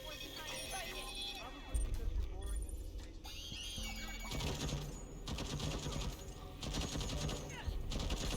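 Turret gunfire in the video game Deathloop, bursts of rapid shots over a busy game soundscape, moderately loud and repeated, with a voice talking over parts of it.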